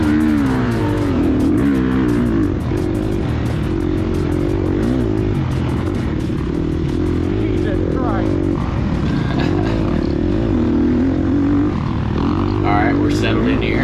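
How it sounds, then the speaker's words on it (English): A Gas Gas EX250F four-stroke dirt bike idles roughly and revs unevenly at the start of a hare scramble race, sounding like it has clutch trouble. Several engines drone loudly and continuously nearby, with talking mixed in. "Oh, boy's having clutch issues, it sounds like."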